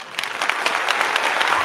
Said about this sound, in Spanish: Bienvenido con un fuerte aplauso